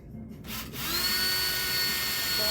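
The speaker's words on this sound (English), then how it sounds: "Now we do need the drill." A power drill fitted with a step bit spins up and bores into metal on a motorized bike build, a brief pause giving way to a steady, high, whining drone that holds at close range.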